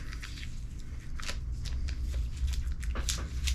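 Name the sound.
peeling tape off a guitar body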